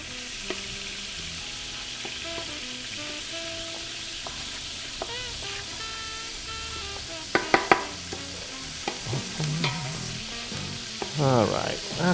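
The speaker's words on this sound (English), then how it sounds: "what I want to do is cook the paste for about 3 or 4 minutes. Just sort of blend it in with everything else" Tomato paste cooking in a pot of Sunday pork gravy, with a low continuous sizzle, soft scraping and occasional louder clacks of a utensil stirring it in, close-up, with no talk.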